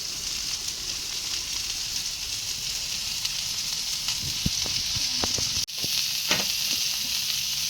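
Onions fry in oil for a kankoda vegetable curry, a steady close sizzle with occasional stirring clicks and scrapes from the pan, alone without speech.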